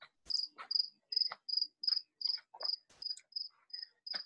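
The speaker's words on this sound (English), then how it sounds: "I hear the crickets chirping" Crickets chirp at night in a clear, regular sequence of short bright trills, close and fairly loud, with faint scattered rustles and clicks between the chirps.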